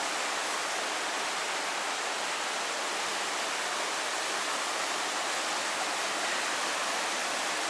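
River water rushing steadily past, a dense unbroken hiss of flowing water, loud and close, continuous throughout with no talking.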